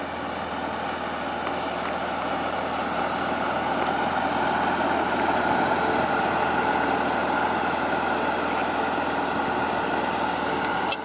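2015 Porsche GT3 engine idling outdoors in hot weather, a constant, loud mechanical hum and vibration that stays level the whole time, with no talking.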